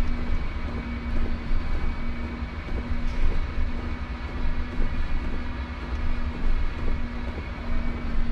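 A heavy freight train rumbles along in Train Sim World 2021 on the Feather River Canyon route, a steady low-pitched roar with a sustained engine drone and faint rattling, continuous and without talk.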